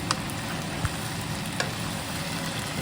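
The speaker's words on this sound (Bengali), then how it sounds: "তাতে আমি ওই ম্যারিনেট করে রাখা চিকেনটা এরপরে দিয়ে দিলাম" Marinated chicken frying in a pan with light golden onions, a steady broadband sizzle holding throughout at close range with a few faint clicks of stirring, no talk.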